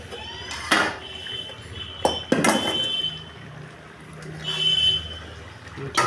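A metal lid is set onto a cooking pot in a home kitchen where lau shak curry and mango dal are being cooked. It comes as a few sharp, close clinks and clatters spaced over several seconds.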